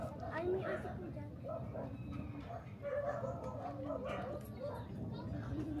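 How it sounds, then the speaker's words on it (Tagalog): A dog barks a few scattered times at a distance amid a busy coastal neighbourhood in Cavite City, Philippines, mostly under people talking nearby. "Ay, may aso po dyan."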